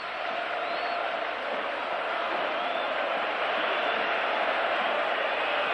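A home crowd at a 1985-86 Barcelona versus Juventus football match gives a dense, sustained roar that fills the stadium and holds steady without a break.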